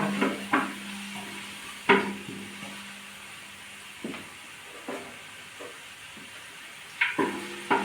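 Onions frying in a pan for fried rice, a soft steady sizzle broken by several sharp clinks and scrapes of a utensil against the pan at irregular intervals.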